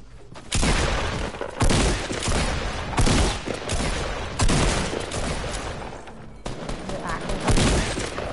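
Gunfire in the video game Fortnite: loud bursts of rapid shots and booming blasts coming in repeated waves, with players talking over the shooting.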